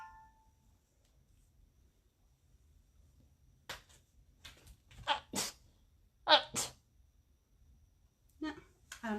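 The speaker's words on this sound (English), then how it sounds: "I'm about to sneeze." A person's sneeze during a summer-themed chalk craft session, with a couple of sharp bursts between quiet stretches and soft handling noises at close range.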